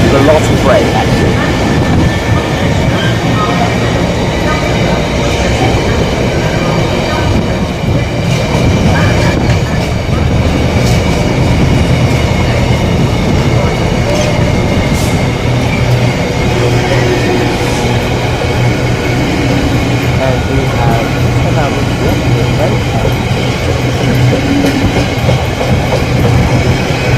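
A train braking through Ipswich station on the Great Eastern Main Line, a steady loud rumble of wheels and brakes with faint squeals, continuous and close throughout.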